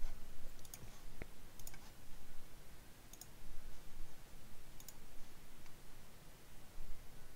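A computer mouse clicks softly and sparsely while files are browsed on a server for a GetSimple CMS template, with isolated quiet clicks scattered over a faint background hiss.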